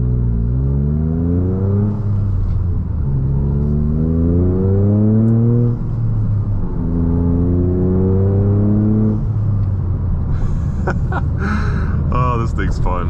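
Toyota GR Corolla hot hatch with four-wheel drive in track mode on a race circuit, its engine revving up through rising gears in repeated pulls, loud and close from inside the cabin.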